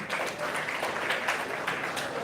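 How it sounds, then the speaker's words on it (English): Audience at a school talk gives a short round of applause, a steady broadband patter of many hands clapping at moderate loudness, with no voices over it. "One applause to him."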